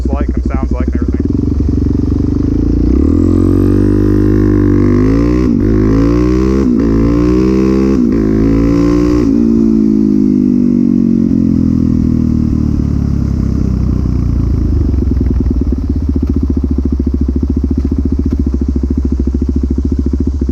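A 2005 Suzuki DRZ400 supermoto's single-cylinder engine revs up hard through a quick pull, pitch sweeping upward in several gear-change steps before settling to a loud, close idle-like drone; a voice talks over parts of it.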